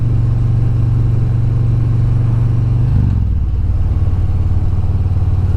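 A 2020 Harley motorcycle fitted with slip-on exhaust holds steady at 3,000 RPM in third gear, a loud, continuous low rumble that shifts pitch slightly partway through as the engine note settles lower.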